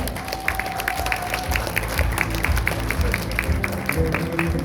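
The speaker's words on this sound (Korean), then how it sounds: "변성환 위원장님께 큰 박수 부탁드리겠습니다" Audience applause at a political talk show event in Busan, a steady round of clapping with distinct individual claps over low background rumble, fairly close and sustained.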